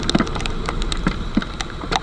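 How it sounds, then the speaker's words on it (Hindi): Heavy raindrops patter on surfaces during a long-distance motorcycle ride, irregular close taps over a steady wash of rain. "बूंदें मोटी होने लग गई हैं। आपको भी आवाज़ आ रही होगी शायद।"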